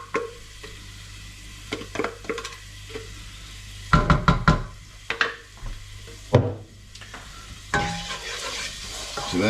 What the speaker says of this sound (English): we're just going to gently fry that off to start with